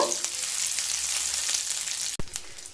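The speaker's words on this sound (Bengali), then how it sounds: "কাজু আর কিশমিশগুলোকে লো টু মিডিয়াম স্টিমে ভেজে নেব।" Cashews and raisins frying in melted ghee over low to medium heat, a close, continuous bright sizzle with a brief clink of stirring near the end, no talk.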